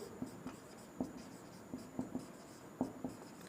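Chalk or marker writing on a board during a Class 12 physics lesson on electric potential, a quiet series of short taps and strokes in an irregular rhythm, close and without talk.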